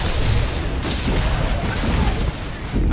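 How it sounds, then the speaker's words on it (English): A grenade explodes in the Star Wars: The Old Republic PvP combat, a loud, dense boom with rumbling blasts and crashing debris layered through continuous battle noise. "Grenade."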